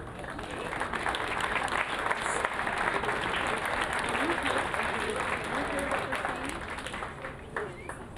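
An audience at a 2023 Veterans Day ceremony claps steadily for several seconds, a broad, even wash of applause with voices mixed in.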